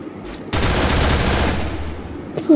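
Gunfire in the Free Fire mobile game: a loud, rapid burst of automatic shots rattles for about a second and a half, close and dense, followed by a short quiet and another shot, with faint voices around it.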